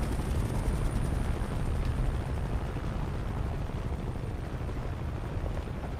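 A helicopter drones through a Call of Duty: Black Ops Cold War mission, a thick, steady low rumble of rotor and engine that stays loud and constant, with no voices over it.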